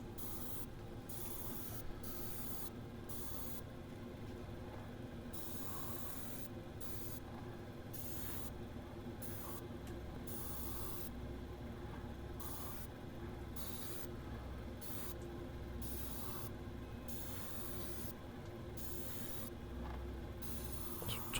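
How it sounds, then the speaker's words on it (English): Airbrush spraying paint that keeps clogging from lumps: a steady close hiss throughout, broken by frequent short gaps as the spray cuts in and out, with no voices. "And my airbrush keeps clogging up."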